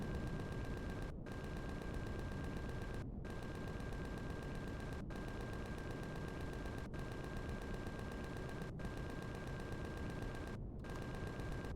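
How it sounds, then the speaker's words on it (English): Light plasma cannon fire in the space survival game Empyrion, a dense, continuous roar of shots with brief gaps roughly every two seconds, loud and sustained with no talk. "That took like 12 light plasma cannon shots to put down."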